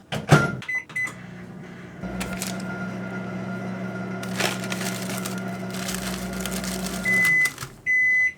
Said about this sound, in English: first we're melting 1/4 to 1/2 a stick of butter